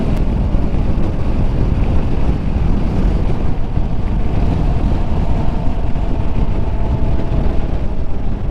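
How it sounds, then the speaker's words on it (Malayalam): Strong wind buffets a Bajaj Dominar motorcycle and its rider on the move, a loud continuous roar of rushing air and microphone buffeting with a low rumble that stays steady throughout. "വണ്ടിയിൽ അത്യാവശ്യം നല്ല രീതിയിൽ തന്നെ കാറ്റ് പിടിക്കുന്നുണ്ട്"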